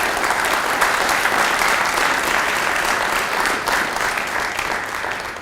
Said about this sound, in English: Could I ask for a round of applause for our organizers and sponsors,